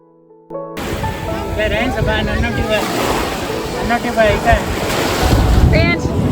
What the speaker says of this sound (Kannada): ಸ್ವಲ್ಪ ವೇವ್ಸ್ ಇರುತ್ತೆ